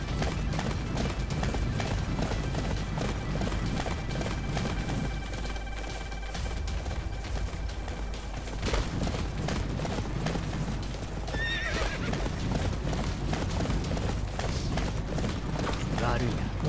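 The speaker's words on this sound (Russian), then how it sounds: "Так, мне нужна моя лошадь. Лошадь!" Hooves clip-clop in a fast, steady gallop under game music in Attack on Titan: Wings of Freedom, with a horse's whinny breaking through midway; a player talks over parts of it.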